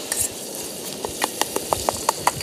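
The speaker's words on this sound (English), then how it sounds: "So I'm basically going to more or less fry this off, make it a bit crispy." Pancetta frying in a pan at a campsite, a steady soft sizzle broken by small sharp pops and crackles that come more often toward the end, close and alone.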